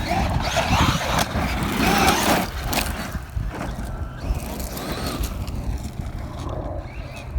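A Traxxas MAXX 4S RC truck bashes around a mountain bike park, its electric motor whining and rumbling loudly nearby with tyre and dirt noise, fading somewhat toward the end.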